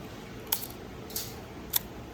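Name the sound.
Voigtländer Prontor II camera shutter firing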